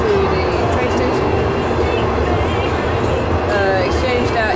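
A passenger train bound for Kunming, China rolls along with a steady low rumble and faint rhythmic clatter, carriage noise filling the background continuously at a moderate level.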